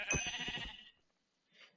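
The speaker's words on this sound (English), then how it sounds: "Oh, hear a sheep, kill a sheep." A sheep bleats in Minecraft, one loud, wavering call lasting under a second, followed after a pause by a brief, fainter second sound.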